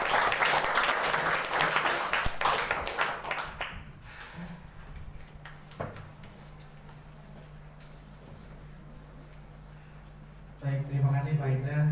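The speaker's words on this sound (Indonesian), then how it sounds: "Tepuk tangan Bapak Indra." A seminar audience claps for a speaker, the applause dense and loud for nearly four seconds, then fading into scattered claps over a steady low hum until a voice starts talking near the end.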